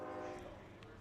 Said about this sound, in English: The train horns just sounded